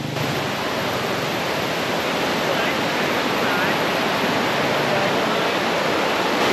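A river swollen after rain rushes past near a hiking-trail bridge crossing, giving a loud, constant broadband roar of water with no breaks for the whole stretch.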